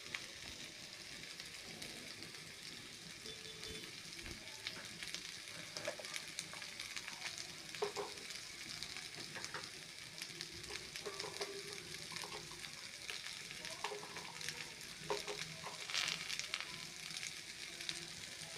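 Potatoes and pointed gourd fry in a pan while being stirred, giving a steady, close sizzle with occasional scraping, and no voices.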